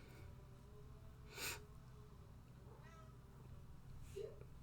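A pet cat meows indoors, one short faint cry followed later by a quieter second one over a low steady background hum.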